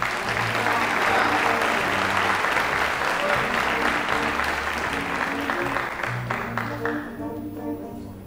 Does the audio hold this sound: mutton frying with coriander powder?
no